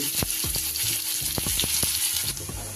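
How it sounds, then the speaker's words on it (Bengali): Chopped onion sizzles in hot oil with black cumin in a home kitchen, a loud steady fry punctuated by several sharp spatula scrapes and stirs, with no talking. "ফোড়নটা আমার ভাজা হয়ে গেলে দিয়ে দিলাম ছোট্ট একটা পেঁয়াজ কুচে"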